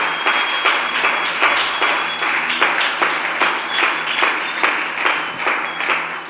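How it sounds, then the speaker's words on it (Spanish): Church congregation applauding in a steady, even wash of clapping with a faint rhythmic pulse, loud and sustained throughout with no voices over it. "Denle un aplauso, por favor."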